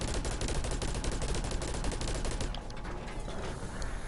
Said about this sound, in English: triangle, is his own version of a minigun.